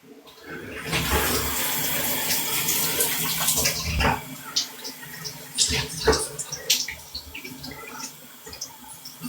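Running water splashes steadily during a wash with soap, a continuous gushing flow with scattered sharper splashes and drips, fairly close and with no voices over it.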